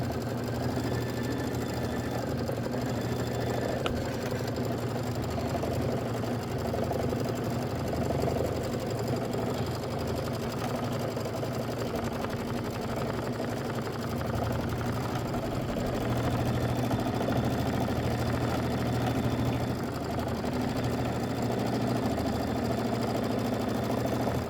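An embroidery machine stitches out a quilt block, a steady rapid mechanical whirring and needle chatter with a constant hum, loud and continuous at close range with no talking.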